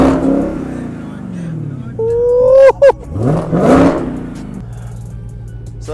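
A Dodge Hellcat with quad-tip exhaust revs close by, a deep rumble rising into a sharp bark and dropping back, with people talking over the engine.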